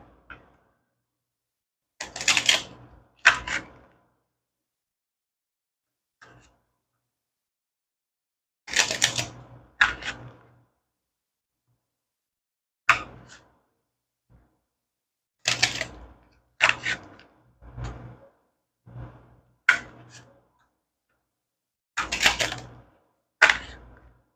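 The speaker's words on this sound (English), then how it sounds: "Give them a quick shuffle." Tarot cards riffled and shuffled in repeated short bursts with quiet gaps between, crisp flapping and clicking close up.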